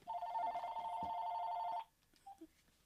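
A phone rings with a single sustained electronic trill that stops abruptly near the end, followed by a couple of faint clicks as it is silenced.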